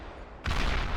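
In the Beyond All Reason strategy game, an artillery shot goes off as one sudden, loud boom that cuts in sharply and then rumbles on briefly without any talking.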